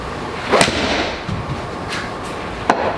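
A Ping i210 golf iron striking golf balls on a practice range, two crisp, sharp impact cracks spaced a couple of seconds apart with fainter taps between, heard close over a quiet outdoor background.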